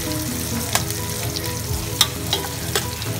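Onion frying in a pan for pancit canton, a dense continuous sizzle with a few sharp clicks and scrapes of a utensil against the pan, close and without talk.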